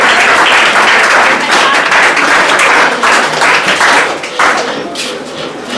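Dense, loud applause from a group of children clapping for a classmate named Tannu, steady and close before fading slightly toward the end.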